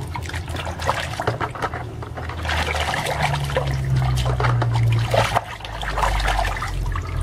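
Running water rinses a toy being washed, a continuous close trickling and splashing stream that stays fairly loud throughout, with no clear talking over it.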